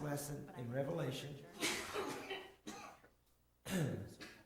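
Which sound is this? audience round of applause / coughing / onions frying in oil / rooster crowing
coughing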